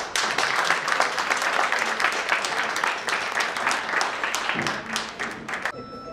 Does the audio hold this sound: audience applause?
yes